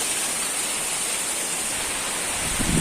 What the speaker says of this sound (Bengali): ওইদিকে দেখুন হাওয়াও দিচ্ছে আর জলও বৃষ্টিও পড়ছে বেশি